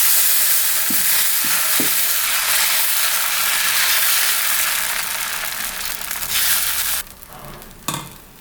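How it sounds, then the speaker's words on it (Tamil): Tomato dosa batter sizzles on a hot griddle with a loud, continuous hiss, broken by a few faint scraping clicks near the start and end. "நம்ம தோசை ஊற்றிக்கலாம்."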